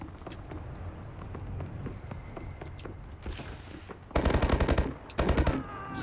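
Gunfire in Call of Duty: Advanced Warfare on PS4, scattered single shots giving way to two loud, rapid automatic bursts near the end.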